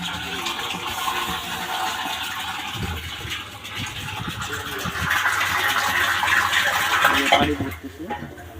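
Water from a motor pump gushes steadily into a tank that is nearly full, a float switch about to cut it off; a continuous, fairly close splashing rush that swells louder near the end, with faint talk beneath.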